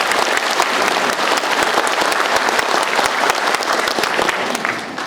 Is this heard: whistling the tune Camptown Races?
no